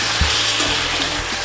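Meat for kosha mangsho fries in a pan with a steady close sizzle, broken by a few soft knocks and scrapes as a spoon stirs it.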